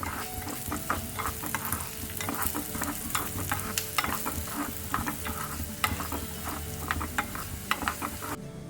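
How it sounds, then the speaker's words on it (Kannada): Coriander seeds, three to four tablespoons, dry-roast in a pan with steady stirring, giving a continuous close scraping, rattling sizzle with no talk throughout. "3 ರಿಂದ 4 ಟೇಬಲ್ ಸ್ಪೂನಷ್ಟು ಕೊತ್ತಂಬರಿ ಬೀಜವನ್ನು ಹಾಕಿ ಹುರಿತಾ ಇದ್ದೇನೆ"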